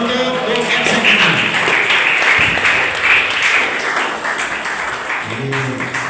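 Steady applause from an audience at a school event at SMK Negeri 11 fills the space, a dense wash of clapping with a voice speaking briefly at the start and again near the end.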